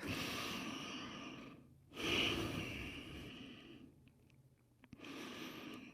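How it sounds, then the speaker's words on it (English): Slow, deep breaths during a live studio flow yoga class, each long inhale and exhale heard close and soft, separated by brief pauses of near silence. "Really focus on moving those deep breaths through the body."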